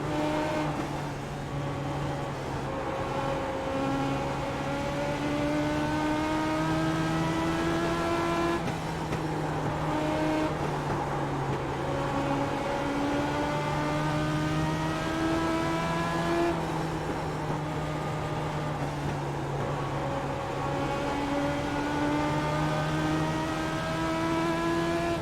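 Race car engines in the iRacing sim, a loud continuous drone with engine pitch rising and falling in repeated gear-change sweeps, no voices.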